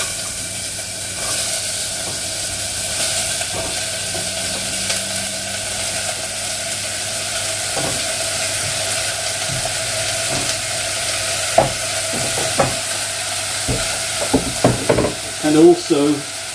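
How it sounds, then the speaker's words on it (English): Onion frying in hot vegetable oil in a pan for curry, a steady close hiss of sizzling throughout with occasional spoon taps and clatters building toward the end. "And then I'm going to add the onion."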